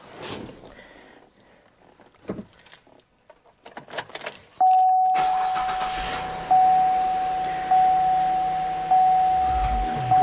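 A 2006 Cadillac SRX with 144,745 miles and a lit engine light starts up. Clicks and rustling lead to a sudden steady rush of running noise, with a warning chime sounding repeatedly over it.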